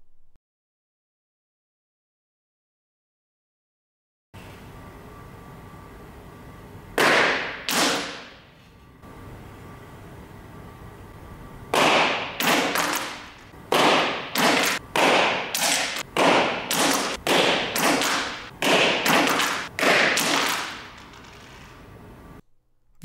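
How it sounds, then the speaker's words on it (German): A sequence of sharp, loud pops and thuds from balloons bursting and an object hitting the floor: two early bursts, then a rapid run of about a dozen cracks in quick succession, with no talking. "die verschiedenen Geräusche des platzenden Luftballons und des Aufpralls auf dem Boden"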